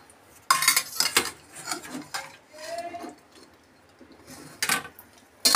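Boiled potatoes are lifted out of a cooking pot in a home kitchen, with several sharp metallic clanks and scrapes of a utensil against the pot, separated by short quiet gaps, close by.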